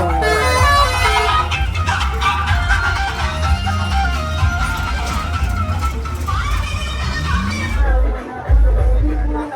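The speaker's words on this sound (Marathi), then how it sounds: "ट्रॉफिक जामच आहे पुरी." A traffic jam on a busy Maharashtra road, with repeated vehicle horns honking over a dense, continuous rumble of engines and crowd noise nearby.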